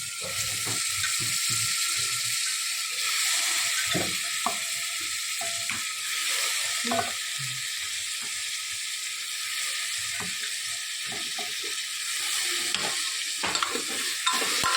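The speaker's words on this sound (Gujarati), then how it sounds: "આપણે જે ફુલીવર બટાકા અને વટાણા છે એને આપણે અંદર નાખી દઈએ" Cauliflower, potatoes and peas tumble into a hot oiled pan and get stirred, a constant sizzle carrying irregular scraping and clattering strokes of the spoon, close by, with no talking.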